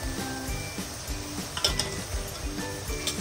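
Tomatoes and dry spices frying in oil in a pan, a moderate steady sizzle with repeated scraping stirs and light clinks of a utensil against metal, no talking.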